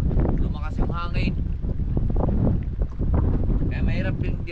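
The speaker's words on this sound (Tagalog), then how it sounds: "bigla naman lumakas ang alon. Lumakas yung hangin." Strong wind buffets the microphone with rushing sea water and waves beneath, while a person talks over the roar.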